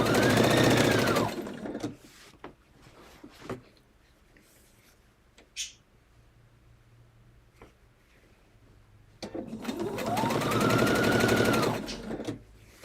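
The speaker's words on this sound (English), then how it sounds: "Hopefully my sewing machine isn't too loud." Sewing machine stitching binding onto a quilted table runner, two loud sustained bursts of motor whine that ramp up and down at the start and end, separated by quieter handling clicks and faint room noise.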